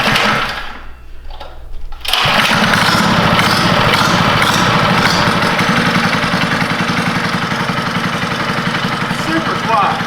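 A Predator 79cc small engine fitted to a Lil Rascal mini bike runs loud and steady for most of the stretch, with a fast buzzing idle that starts abruptly after a brief quieter opening.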